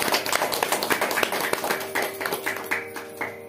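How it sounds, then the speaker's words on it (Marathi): A women's day song-programme audience gives a round of applause for working women, a fairly close scatter of individual claps rather than a roaring ovation, with a faint tonal hum underneath. "तर आपण त्यांच्यासाठी सुद्धा एकदा जोरदार टाळ्या वाजवूया"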